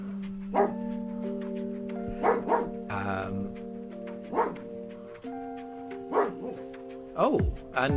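A dog indoors gives scattered barks and yips, loud and close, over a steady tonal background.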